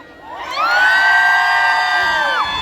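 A crowd at the Chao Phraya Dam memorial fair in Chai Nat cheers loudly, many voices rising together into a sustained shout and whoop that swells in quickly and holds, with children's voices among them.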